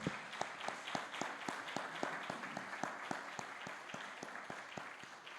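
A church congregation applauds during a family worship service, a steady rhythmic clapping with regular sharp claps over a dense wash of hands, moderately distant and consistent throughout.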